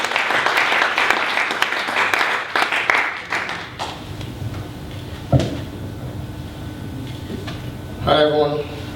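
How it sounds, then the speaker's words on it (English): An audience claps for a speaker at a marketing talk for small businesses: dense applause for about three seconds that fades out, followed by someone talking over the room. "please a round of applause for Mr. Samson Oguntayo."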